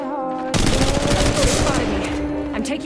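Bursts of automatic gunfire fill Apex Legends gameplay, starting abruptly after a brief tone and continuing as rapid, loud shots layered with game effects and some player voices.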